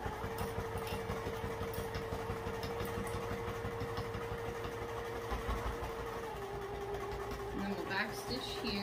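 A sewing machine stitching the seam of a crossbody bag, a steady rapid mechanical whir with a regular needle chatter close by, running continuously and slowing near the end, with quiet talking over it.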